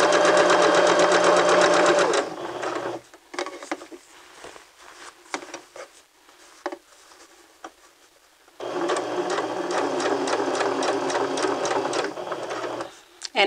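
A sewing machine stitches fabric around a curve in two loud close bursts of rapid needle chatter, with a quieter pause between them while a person talks.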